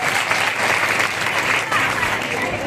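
An audience at a women's gathering applauding, a dense continuous roar of many hands clapping, loud and sustained throughout.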